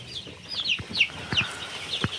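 Chicks kept in a warm spot during cold weather peep in high, scattered chirps while soft taps and scratches of small feet sound close by, with no voices.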